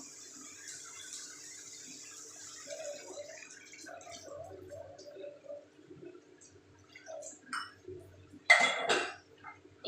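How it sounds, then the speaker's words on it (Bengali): Hot water is poured into fish curry cooking in a pot on a home kitchen stove. Faint drips and light clinks come first, then a short, louder splash and pour near the end, with no talking. "এখন আমি এখানে আমি যে গরম জল করে রেখেছিলাম গরম জলটা দিয়ে দেবো"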